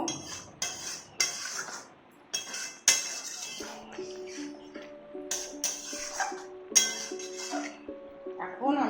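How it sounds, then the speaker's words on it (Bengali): Meat cooking in a pot with hot water added and stirred in; a spoon clinks and scrapes against the pot in repeated sharp taps, some louder than others, over a steady low background. "জল দিয়ে এটাকে ভালো করে মিশিয়ে নেব"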